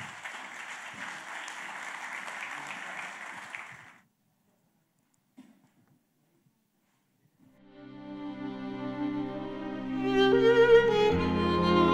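Live concert audience applauding as two singers are introduced on stage, steady clapping for several seconds that stops, then silence before music begins to play.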